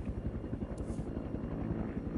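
Distant helicopter approaching, a fairly faint but continuous rotor thump with a low, even engine hum, heard alone.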